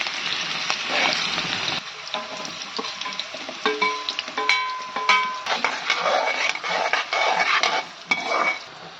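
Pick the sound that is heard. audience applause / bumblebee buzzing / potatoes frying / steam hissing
potatoes frying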